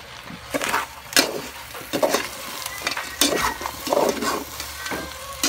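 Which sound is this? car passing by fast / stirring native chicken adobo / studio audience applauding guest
stirring native chicken adobo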